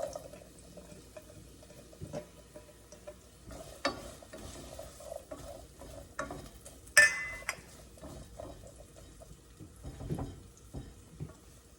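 Chopped onions dropped into a hot pan for Igado, an Ilocano dish, give a faint, steady sizzle with occasional stirring scrapes and a sharp clink of utensils.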